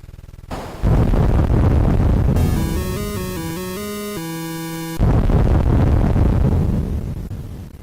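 An orchestral excerpt from Tchaikovsky's 1812 Overture used as high score music in the Battlezone arcade game, loud and full, with broad crashing passages framing a clear sustained melodic section in the middle; no talking.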